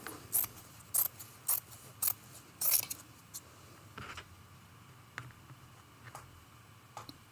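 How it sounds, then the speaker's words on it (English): Scissors cut out a fabric back piece for a quilted gingerbread man ornament in a run of crisp, close snips, about six quick cuts, then quieter scattered clicks. "to cut out a back fabric"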